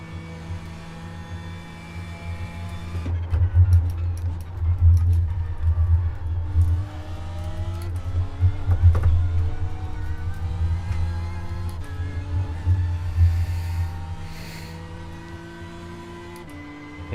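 LMP2 prototype race cars in an IMSA racing video game, a low engine drone with several rising and falling passes as cars go by, tones sweeping over about fourteen seconds before fading, no speech heard.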